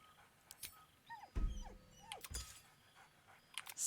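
A dog barks in a video game, short yips and whimpers between thumps, fairly faint and sporadic amid quiet game sounds.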